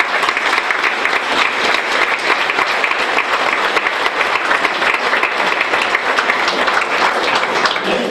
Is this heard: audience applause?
yes